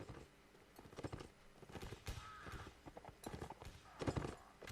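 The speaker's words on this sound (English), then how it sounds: "And in here is some additional horses." Horses in the Mount and Blade North & South mod during a line battle, quick hoof clip-clops in irregular bursts with a brief whinny, moderately close amid scattered battle noise.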